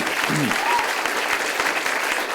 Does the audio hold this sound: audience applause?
yes